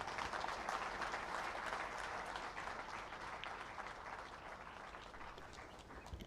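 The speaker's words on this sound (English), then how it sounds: "Another round of applause as I invite him to take the front seat on my right." Sustained audience applause at a university memorial lecture, a dense wash of many hands clapping throughout, steady and moderately loud, tapering slightly toward the end.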